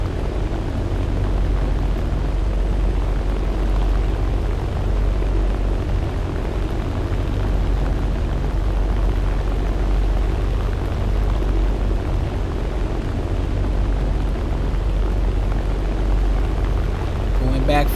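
Propeller aircraft engine in War Thunder droning loud and steady throughout, a dense low rumble with no clear breaks as the plane turns hard on a bombing run.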